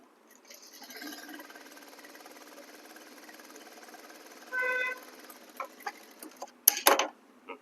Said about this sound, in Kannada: ಇನ್ನೊಂದು ಹೊಲಿಗೆ ಅನ್ನೋದು ಹಾಕೊಳ್ಳೋಣ